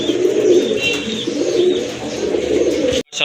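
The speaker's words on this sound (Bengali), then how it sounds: "এটা কিন্তু গড়ার একটা মাদি কবুতর।" Pigeons coo in soft, repeated throaty calls close by at a seller's loft that keeps grey-barred female birds, a continuous murmur that ends abruptly.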